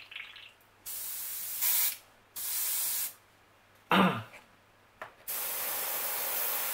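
An airbrush sprays Greenstuff World colorshift metal paint in several short hissing bursts of varying length, close and steady, separated by brief pauses with one quick puff near the end.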